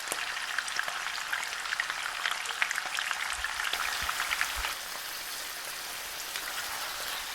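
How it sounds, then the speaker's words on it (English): Mutton searing on the highest heat in a hot pan for Kashmiri rogan josh, a steady dense sizzle and crackle with scattered spits and pops, close and continuous with no voices. "Allow this to sear and caramelize on the highest possible heat for at least 4 to 5 minutes"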